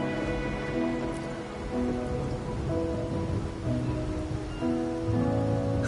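Steady, soft rainfall patters in the game Wuthering Waves, a faint continuous hiss with gentle sustained tones drifting over it.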